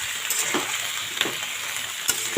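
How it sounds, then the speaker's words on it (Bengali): Vegetables fry in a kadai for a Bengali sea-fish and radish curry, with a steady close hiss of sizzling oil broken by a few sharp scrapes of stirring. "এটাকে সুন্দর করে ভেজে নেব"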